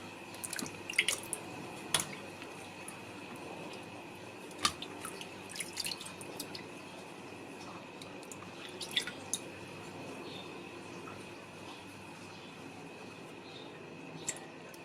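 Aloe vera leaves are soaked and washed in water, with scattered close drips, splashes and sloshes over a quiet room background, busier at the start and sparser later.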